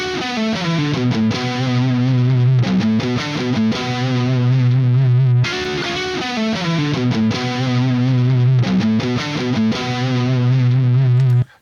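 Distorted electric guitar lick played through a real tube amplifier, loud and sustained with sharp repeated phrases, chugging low notes and a brief pause midway, alone with no talking.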